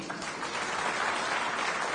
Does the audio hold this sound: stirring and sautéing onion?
no